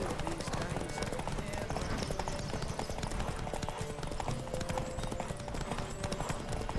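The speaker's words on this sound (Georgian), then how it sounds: "Riders ready! Don't spare the horse!" Horse hooves galloping in The Witcher 3 make a rapid, steady clip-clop rhythm that runs throughout at moderate loudness, with voices talking over it.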